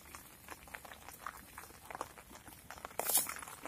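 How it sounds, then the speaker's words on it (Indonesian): Rain falls outdoors at a riverside tilapia fishing spot, a steady soft patter of drops with brief louder bursts near the end, no speech. "Semoga hujannya nggak lama."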